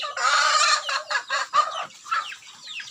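Chickens on a farm cluck and crow close by, a loud drawn-out call first followed by a string of shorter clucks that fade toward the end.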